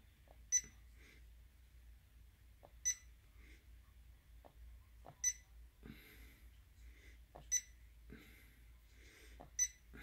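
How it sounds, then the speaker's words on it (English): An Arduino Mega clock project gives short, faint electronic beeps at irregular intervals, about every two seconds, each one as the hour selection changes, over a low steady hum with no talking. "that's a beep each time you make a different selection for the hour."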